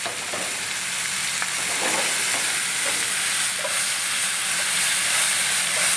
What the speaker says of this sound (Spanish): Buscamos el color dorado en el champiñón, igual que en la cebolla.